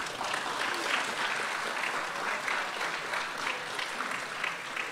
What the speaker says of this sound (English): It is allowed to applaud.